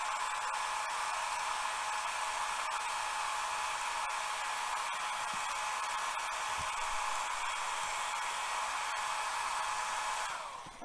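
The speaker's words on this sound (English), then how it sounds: "we've got hair dryer, and we're just going to go ahead and hit that real quick" A hair dryer blows steadily and close up, drying paint on a miniature with a constant airy whir that cuts off near the end.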